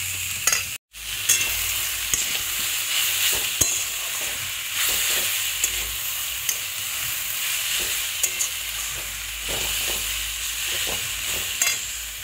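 Cabbage curry cooks in a pan with ground spices, giving a continuous close sizzle and fry broken by repeated scraping stirs of a spatula, with a brief dropout near the start and no speech.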